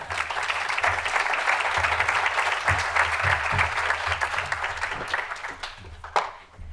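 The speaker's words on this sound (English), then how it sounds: "Let's give her one more round of applause" Sustained, full applause from a seated audience at a voter language-access summit, a dense even wash of many hands clapping throughout, tapering slightly near the end.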